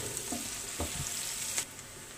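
Onions with a pinch of salt sautéing in a pan for Kerala fish dum biryani, a steady soft sizzle with a few light stirring scrapes and taps, no voices.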